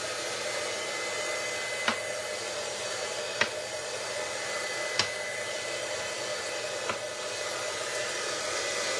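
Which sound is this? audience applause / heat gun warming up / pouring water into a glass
heat gun warming up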